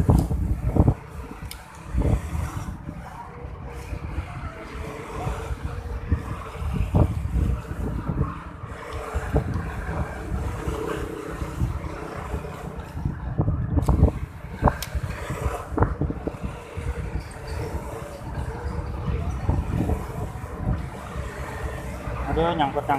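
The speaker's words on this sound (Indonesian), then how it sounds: "kencang betul anginnya" Strong wind blows over a canal during snakehead fishing, buffeting the microphone with uneven low rumbling gusts throughout, while people talk over it.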